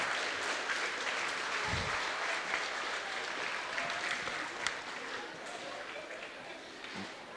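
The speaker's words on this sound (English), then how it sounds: "Could we have a round of applause for everyone who has done something today" An audience at the Verdon College MusicFest 2022 claps in steady, full applause that slowly thins out, with a few thumps and faint voices beneath it.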